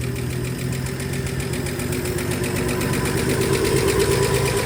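A Ford F-100 pickup truck engine idling just after a carburetor install, a steady, loud, close rumble with a rapid regular pulse and a slight rise in level toward the end.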